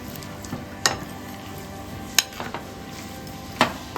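White cooking oil goes into a pan for chicken pasta, with a soft sizzle under a few sharp metallic clinks and taps of a pot and utensil, close by and without speech.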